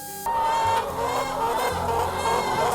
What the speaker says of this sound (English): And then there's the chicken coop, plenty of hens